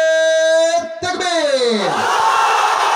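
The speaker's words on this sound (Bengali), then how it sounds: "যাদের বউ নাই তারা তাকবীর দিবা আমার সাথে" A preacher's long, drawn-out sung call at a religious gathering, answered by a loud crowd shouting the takbir in unison, the massed voices swelling and sustaining close by.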